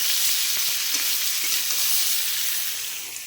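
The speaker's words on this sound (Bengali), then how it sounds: "এখানে এই উচ্ছে চচ্চড়িটা হচ্ছে" Bitter gourd chorchori frying in a pan in a home kitchen, giving a steady, close sizzle with a constant hiss that fades slightly toward the end, with no voices.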